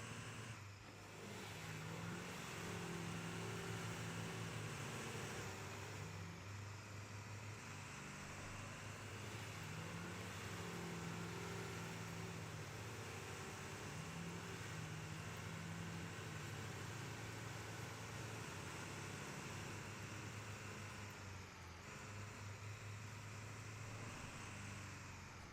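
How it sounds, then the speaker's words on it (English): A truck engine in the video game Snowrunner runs with a steady, low droning hum that holds for the whole stretch, alone and fairly faint. "Such a good sounding truck."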